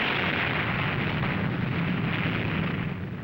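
A nuclear weapon blast in a Cold War film roars as a dense, sustained rumble that fills the whole clip at loud, even strength before easing slightly at the end.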